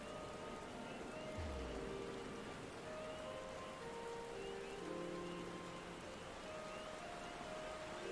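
Steady rain falls in Final Fantasy XIV, a soft, constant hiss of drops pattering on surfaces, faint, with gentle musical tones drifting over it.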